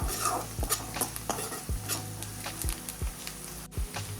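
Onion and garlic sautéing in hot oil for vagharelo rotlo: a steady close sizzle broken by regular scraping strokes of a spoon stirring the pan, with no voices.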